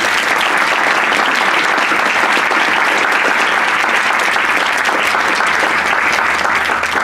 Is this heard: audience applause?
yes